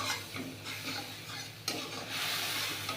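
Shukto spice paste sautés in a pan, a soft, close sizzle with scraping stir strokes and one sharp clink partway through.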